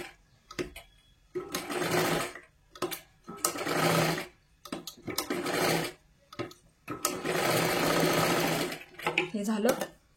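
A sewing machine stitches a princess blouse in several loud, close bursts of steady whirring separated by brief pauses, with a speaker talking in between runs.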